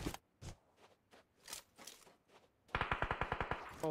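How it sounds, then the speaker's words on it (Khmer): Gunfire in a PUBG Mobile match: scattered single shots spaced out, then a rapid close burst of automatic fire, with no voices. "ក្រុមទាំងអស់កំពុងតែបាញ់គ្នា"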